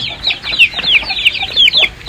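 A Turkish hen clucks in a rapid run of short, high, chattering calls, close by and fairly loud, with no voices over it.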